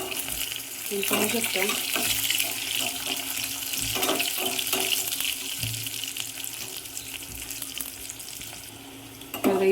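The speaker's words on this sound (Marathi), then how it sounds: "याच्यामध्ये मी अशी मिरची छान अशी तळून घेणार आहे" Green chilies frying in hot oil, a soft continuous sizzle with occasional stirring clinks, while someone talks briefly over it.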